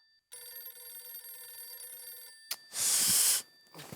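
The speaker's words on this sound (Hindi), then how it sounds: "अरे तो मेरे ही फोन में बज रहा है।" Mobile phone ringtone plays indoors as a steady repeating melodic ring for about two seconds, followed by a brief burst of loud hissy noise.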